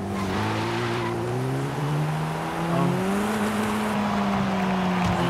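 A front-wheel-drive 2021 MG MG6 XPower with 200 kilowatts revs up and accelerates in Forza Horizon 5, its engine note rising and falling steadily through the gears with faint tire noise, close and continuous.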